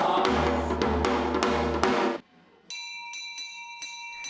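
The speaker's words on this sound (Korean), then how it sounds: "여기선 종소리도 전통 장단으로 울립니다." A bell is struck repeatedly in a traditional Korean rhythm, its strikes ringing full and close. After a brief pause, a lighter, brighter chiming pattern follows.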